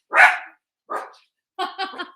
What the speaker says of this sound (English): the dogs are announcing her arrival